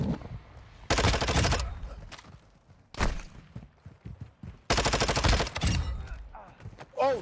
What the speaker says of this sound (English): Oh shit, sniper fired.